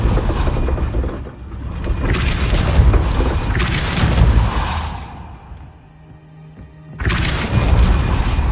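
Casting the Depulso spell in Hogwarts Legacy on PS4 Pro sets off loud, heavy blasting and shattering rumbles that surge, fade to a quieter lull, then burst back in at full strength.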